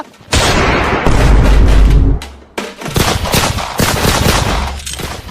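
Loud, dense bursts of gunfire sound effects from a comedy film roll in two long volleys separated by a brief gap, with little talk.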